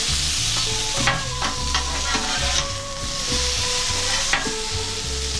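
Potatoes frying in a pan, a constant close sizzle with intermittent spoon scrapes and clinks as they are stirred, no talking.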